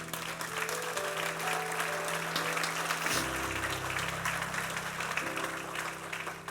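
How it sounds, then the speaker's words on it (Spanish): Church congregation applauding loudly and steadily throughout, with sustained organ or keyboard chords underneath and a chord change midway; no speech over the clapping. "Dale un aplauso al Señor."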